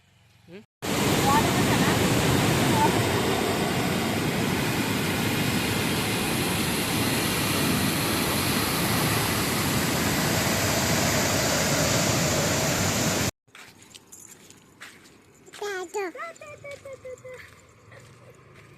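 A loud, steady roar of water rushing through the gates of Jurala dam fills most of the recording, then cuts off abruptly, leaving quieter ambience with a voice speaking near the end.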